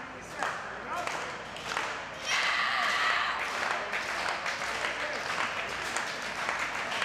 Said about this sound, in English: The crowd firmly behind LuFisto, rallying behind the wounded Al Ronan